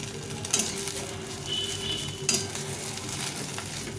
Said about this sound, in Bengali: পরে একটু তেল দিয়ে ভালো করে ডিমটাকে ভেজে নেব লাল লাল করে ভেজে নেব